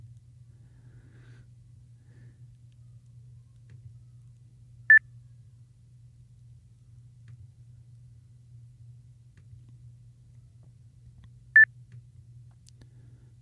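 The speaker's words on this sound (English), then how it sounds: "Lots of beeping going on tonight here on American Link." Two short, high electronic beeps spaced several seconds apart over a faint low hum, like amateur radio link tones on an Icom IC-9700.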